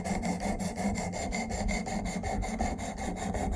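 Knife being sharpened on a Work Sharp Precision Adjust Elite, steady close abrasive rasping strokes against the blade running continuously without pause, no voices.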